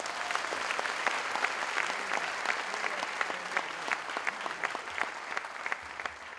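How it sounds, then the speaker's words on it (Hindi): Steady audience applause fills a motivational seminar hall in Mumbai, with dense overlapping clapping sustained throughout at moderate distance and no speech over it. "जोरदार ताली आपके लिए हो जाए"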